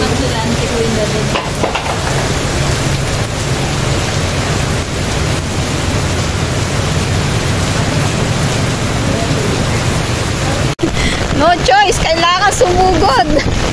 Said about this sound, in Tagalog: Parang walang balak huminto ang ulan.